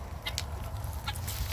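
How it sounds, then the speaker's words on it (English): Chickens in a backyard coop built from reused barn wood, a few short clucks rising over steady outdoor background noise, moderately close with no talking. "Oh, looks like the chickens are doing well."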